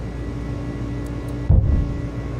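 An Airbus A300-600F freighter in FedEx cargo livery takes off in Microsoft Flight Simulator, its engines giving a steady, loud low rumble with a brief heavy thump partway through as the jet rotates off the runway.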